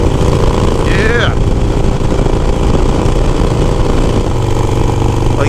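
Harley-Davidson Sportster motorcycle engine droning steadily and loudly while riding on an open road, with wind rush and a constant low rumble throughout.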